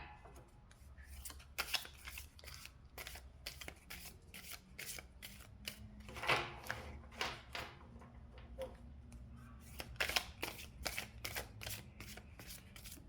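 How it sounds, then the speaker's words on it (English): Tarot cards being shuffled by hand, a long run of quick riffling flutters and soft slaps in bursts, close and quiet, with faint low background hum and no talk. "if you don't want to watch the shuffling, go right ahead and fast forward"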